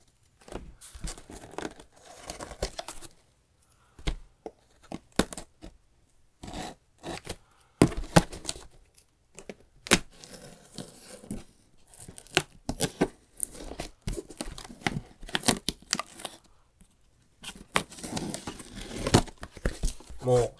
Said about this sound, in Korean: 일단 박스를 오픈해 보겠습니다.